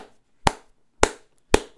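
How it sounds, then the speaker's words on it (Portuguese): Three sharp hand claps, evenly spaced about half a second apart, close and crisp, with silence between them and no voices. "Essa daqui, ó, merece palmas"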